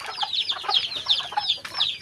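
Farm chickens clucking up close, a busy run of short overlapping clucks and chirps with no pauses for two seconds.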